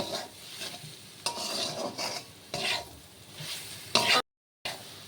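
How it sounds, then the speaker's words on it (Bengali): Spices with turmeric being fried and stirred in a pan for potato bhuna, with scraping spoon strokes and sizzling bursts in several waves and a brief silent gap near the end. "আলু ভুনা করার সময় মশলাগুলো ভালো করে কষিয়ে নিতে হবে। তো ভালো করে আমি কষিয়ে নিচ্ছি।"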